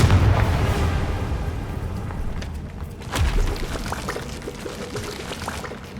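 Repeated fiery blasts from the Confringo spell in Hogwarts Legacy, booming and crackling through dense game ambience, with a stronger burst partway through.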